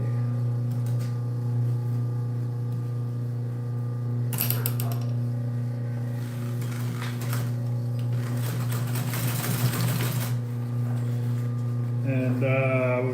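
A sewing machine top stitches upholstery for boat cushions, a continuous loud motor hum with rapid needle chatter that runs steadily and speeds up in bursts, close by with no talking.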